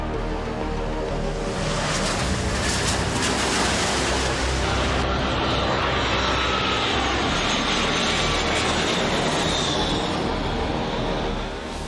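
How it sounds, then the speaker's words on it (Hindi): An airplane flying from Poland to Bulgaria, a steady broad engine roar that stays loud and continuous throughout with no voices over it. "का विमान पोलैंड से बुल्गारिया के लिए उड़ा"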